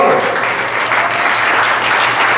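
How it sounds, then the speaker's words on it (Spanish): A church congregation gives a loud, sustained round of applause for the Lord, a dense continuous wash of clapping close and full throughout. "¿por qué no le dan fuerte aplauso al Señor?"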